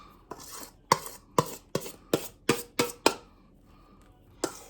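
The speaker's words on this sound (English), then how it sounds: "I get me a big spoon like this, just a big old tablespoon. You're going to scrape it into your bowl, scoop it all out" A big tablespoon scrapes homemade Southern banana pudding mixture into a bowl in about nine sharp, rhythmic scoops and scrapes, close and distinct, ending with one last stroke after a short pause.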